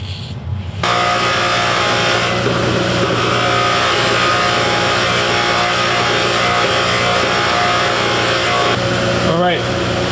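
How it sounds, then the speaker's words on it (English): A wire wheel grinds steadily and loudly across the teeth of a Dana 60 ring gear, lightly shaving them in a continuous harsh whir that holds for several seconds with a brief change near the end. "We don't want to ruin the heat treating now with this wire wheel."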